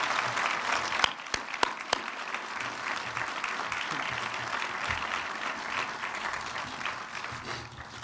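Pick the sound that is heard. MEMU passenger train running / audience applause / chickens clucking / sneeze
audience applause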